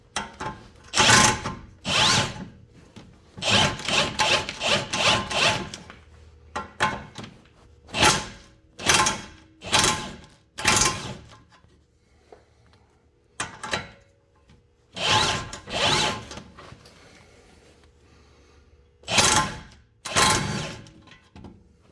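An impact wrench turns a nut on a tie rod end of a 2019 Chevrolet Trax AWD front axle, firing in repeated loud rattling bursts of a second or two, separated by short pauses, close by.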